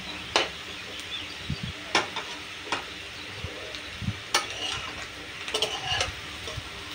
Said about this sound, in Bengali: হয়ে গেছে আমার আলু ভাজা প্রায়